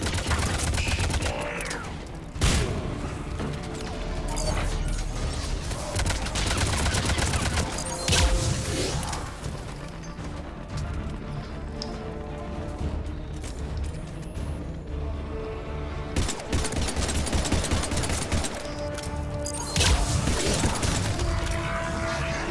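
Gunfire in Mass Effect 3 Legendary Edition during combat against Turians, dense rapid bursts of shots with mechanical clatter over a busy game soundtrack, loud and sustained, with short louder volleys at intervals.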